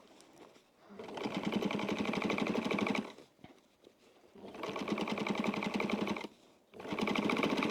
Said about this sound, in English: So now we're going to flip that up and sew it at the 1/4 of an inch.